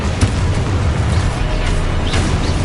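A Confringo spell explosion in the Hogwarts Legacy video game on PS5 gives a short, dense, booming blast with rumbling low end that fills the whole moment, loud and close.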